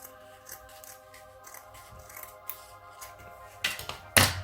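Scissors snipping paper while folding an origami face mask, with soft rustling of the sheet and a few louder, closer cuts near the end.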